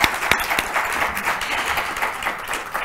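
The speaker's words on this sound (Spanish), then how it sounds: "Voy a pedir un aplauso para tu intervención." Steady, dense audience applause fills an end-of-academic-year closing ceremony, a loud wash of many hands clapping continuously with a few sharper claps near the start and no voices.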